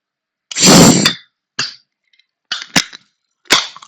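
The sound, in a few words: energy drink can being opened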